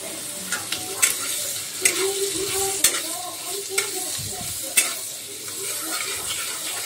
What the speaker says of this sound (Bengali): এবার এটা লো ফ্লেম করে আমি আগে সবজিগুলোকে এখানে ভেজে নেব এক এক করে